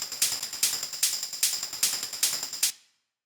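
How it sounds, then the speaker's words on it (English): A hard techno hi-hat and shaker pattern loops in a tight, even rhythm: sharp bright ticks over a constant hissing shuffle, repeating about six times before stopping abruptly. "Now together with the shaker, it sounds like this."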